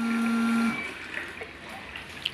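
A coin-operated water vending dispenser pours water into a container with a steady stream that cuts off partway through, followed by a quieter room with faint clicks.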